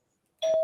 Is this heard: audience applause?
no